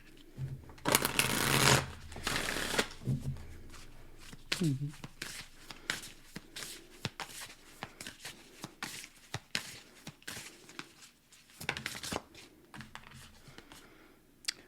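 Shuffling of a Moonology oracle card deck during a tarot reading, with two bursts of rapid riffling near the start followed by scattered close card flicks, taps and slides, while someone talks throughout.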